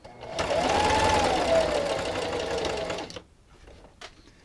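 A sewing machine runs fast stitching a fleece blanket, a loud steady whir for about three seconds before stopping abruptly, followed by a couple of faint clicks.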